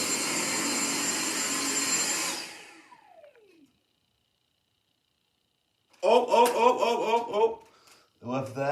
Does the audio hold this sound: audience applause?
no